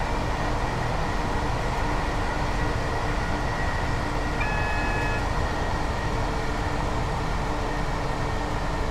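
A simulated train drives from Edinburgh out to Cowdenbeath in Scotland, giving a steady, loud, continuous rumble with a faint tonal whine and a short two-tone electronic beep near the middle, no voices.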